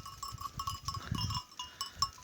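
A young lamb on a pasture, whose mother is a white horned sheep, bleats in repeated wavering calls over a busy outdoor background, fairly close, with no talking.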